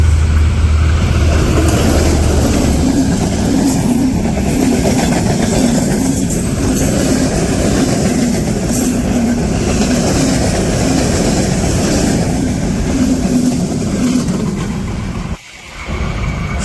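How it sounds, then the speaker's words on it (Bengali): A long train passes close by on a village route, a loud continuous roar with rhythmic clickety-clack and a low hum, holding steady for about fifteen seconds before a brief dip near the end. "ওই সামনে হচ্ছে গিয়ে ট্রেন আসতেছে"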